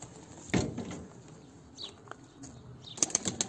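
Several pigeons burst into flight as they are released, a loud close flutter of flapping wings followed by fainter wingbeats and a second burst of flapping near the end.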